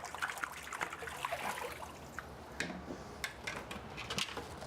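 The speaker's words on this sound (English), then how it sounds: "This, just kind of rinse this out." Water splashes and trickles unevenly as an aquarium filter part is rinsed out by hand, a close, continuous wet rush with small bursts and no voices.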